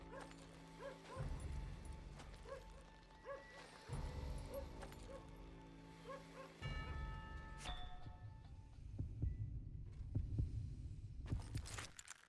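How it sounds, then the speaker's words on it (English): Low, rhythmic heartbeat thumps of an opponent during a gunfight duel in the Western video game Call of Juarez: Gunslinger, pulsing steadily through the clip beneath game music and tonal effects, with no talking. "apparently you can hear his heartbeat"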